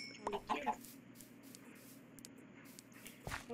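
Minecraft chickens cluck a few times early on, quick soft clucks over a low steady game background that then stays quiet.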